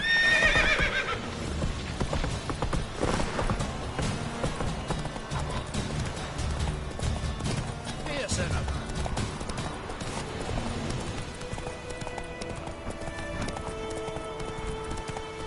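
Roach the horse from The Witcher 3 gallops with steady clip-clop hoofbeats up close, opening with a loud whinnying neigh, with faint game ambience beneath and no talking.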